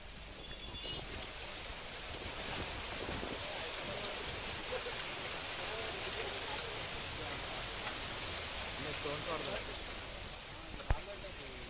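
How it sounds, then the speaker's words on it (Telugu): Steady, dense rain pours down in a heavy downpour in Hyderabad, a broad hiss of water on surfaces at moderate volume, with a brief knock near the end. "దట్టంగా అలుముకున్న మేఘాలతో ఒక్కసారిగా కుండపోత వాన కురిసింది."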